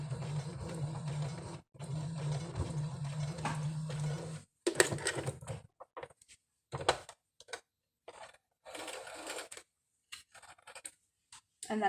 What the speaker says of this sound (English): And then I sewed right off the edge.